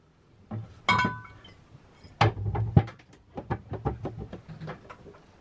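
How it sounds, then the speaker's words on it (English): Glass bottles rattling and clinking aboard a sailboat, a series of light irregular knocks and chinks at close range, some louder impacts among quieter taps. "Will his bottles still rattle?"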